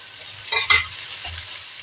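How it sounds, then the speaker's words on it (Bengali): Prawns drop into a pan of frying masala for a potato-prawn curry, giving two quick bursts of sizzle and stirring over a faint, steady frying hiss. "এবার আমি চিংড়ি মাছ কটা ছেড়ে দিলাম"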